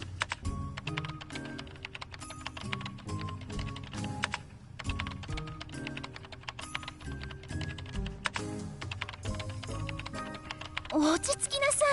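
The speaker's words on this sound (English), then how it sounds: "then started to pound at the keyboard" Rapid, uneven clacking of fingers pounding a computer keyboard in the visual novel Chaos;Child, dense bursts of keystrokes with brief pauses, close and crisp over a quiet musical background.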